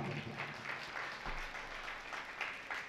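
An audience at a Hindi Jain sermon breaks into clapping, a faint continuous patter of many hands heard alone at some distance.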